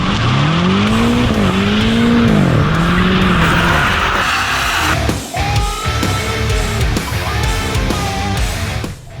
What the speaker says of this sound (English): The engine, it is amplified into the cabin by the speakers.